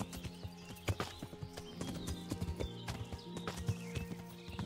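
Rhythmic clip-clop of a horse's hooves while riding in Kingdom Come: Deliverance, steady close hoofbeats with an occasional whinny over ambient game music.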